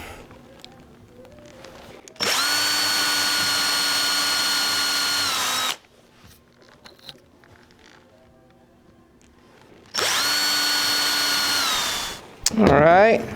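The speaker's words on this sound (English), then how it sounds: "now we can go ahead and drill the holes" Two long, steady bursts of a power drill boring holes for glass shelf hanger fittings in a display cabinet, each run several seconds at a constant pitch, separated by quiet workshop handling noises, ending with a brief whirring squeal.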